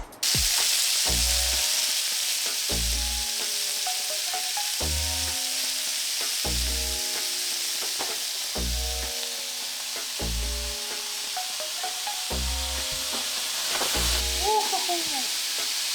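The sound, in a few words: sauteing onions, beef and liver in a pan for Pigar Pigar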